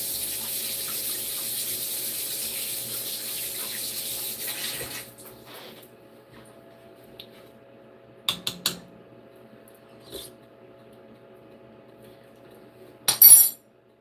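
A kitchen tap runs steadily as a spoon is rinsed under it during soup making, the water hiss fairly loud for about five seconds before cutting off, followed by a few faint clinks and knocks of utensils.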